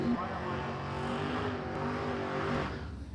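A drag racing car with a Pontiac body and Pontiac engine runs at a dragway, its steady engine drone sounding distant and muffled beneath a commentator's continuous talk.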